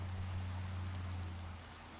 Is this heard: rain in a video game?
yes